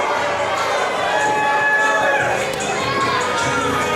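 A wrestling event crowd shouts and cheers in a steady, dense roar of many voices, loud and continuous throughout, with a commentator's voice mixed into the noise.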